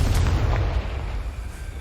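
Confringo fire spell exploding in the Hogwarts Legacy video game, a deep rumbling boom with a sharp initial burst that rolls on as a sustained low roar through the short stretch.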